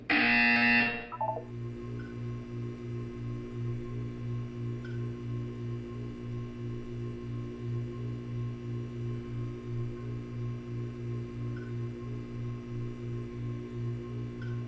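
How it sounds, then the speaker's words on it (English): A Portal 2 buzzer alarm sounds loudly for about a second, then gives way to a steady low electronic hum that pulses in a regular rhythm through the rest of the clip. "You will hear a buzzer. When you hear the buzzer, look up at the ceiling."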